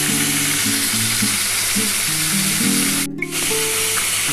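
Pointed gourd (potol) frying in hot oil gives a loud, continuous close sizzle with a steady hiss, interrupted by a brief dip near the end.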